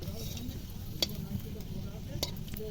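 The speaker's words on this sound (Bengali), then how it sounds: "পাঁপড়গুলো সব একে একে ভেজে নেব।" Papad fries one by one in hot oil in a home kitchen, a soft, steady sizzle with a couple of crisp crackles, fairly quiet and without speech.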